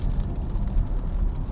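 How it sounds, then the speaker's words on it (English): Maserati Grecale Modena with a 2-litre four-cylinder engine, a deep, steady low rumble heard from the car on the move, fairly loud and continuous with no talk. "It sounds great, this 2-litre 4-cylinder."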